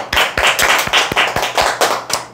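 A round of sharp, rhythmic hand clapping from a small audience at a sales coaching lecture, with quick, distinct claps ringing out close by for a couple of seconds and no talking.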